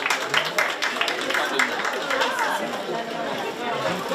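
An audience in a chocolate demonstration hall applauds pastry chef Priscilla, scattered clapping under busy crowd chatter and overlapping talk, steady and moderately loud throughout.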